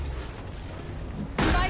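Gunfire in the tactical shooter Valorant, a sudden loud burst that arrives near the end after a stretch of low background game noise, with a player's voice talking faintly underneath.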